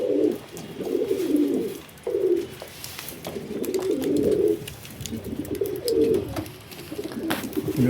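Pigeons kept as pets in a home loft coo almost continuously in overlapping rolling calls, close by, with occasional light clicks and shuffling around them.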